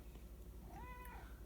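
House cat giving a single short, rising-then-falling meow, faint against a low steady hum.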